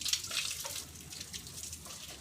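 Water runs steadily while a turtle pond area is being watered, a close, continuous splashing hiss like a tap pouring, fairly quiet and with no talking.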